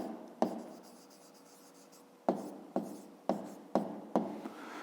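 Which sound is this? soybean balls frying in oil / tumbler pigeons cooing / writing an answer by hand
writing an answer by hand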